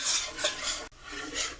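A spoon scraping and stirring roux in a pot for a seafood gumbo, a soft continuous rasping swish with a brief knock partway through, close and quiet with no talking.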